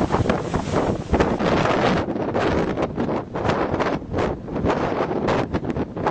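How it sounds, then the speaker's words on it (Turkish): Strong wind in Bodrum, Turkey, roaring and buffeting close against the microphone, steady and loud throughout with gusting surges. "Bodrum'da etkili olan şiddetli rüzgar günlük yaşamı olumsuz etkiliyor"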